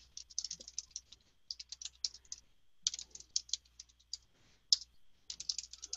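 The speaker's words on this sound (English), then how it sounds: "I'll type it for you." Fast bursts of typing on a computer keyboard, crisp clattering keystrokes in several runs separated by short pauses, close and fairly quiet, with no talking.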